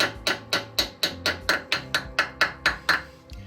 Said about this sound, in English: popping the dust cap on. Use a brass hammer, rubber hammer,